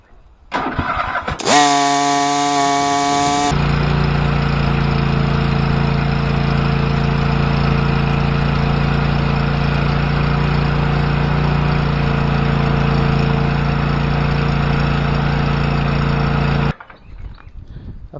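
A Cub Cadet XT1 LT46 lawn tractor engine cranks briefly, fires and settles into a loud, steady running drone after a tune-up, continuing evenly for about fifteen seconds before cutting off.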